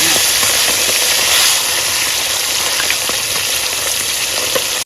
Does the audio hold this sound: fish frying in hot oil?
yes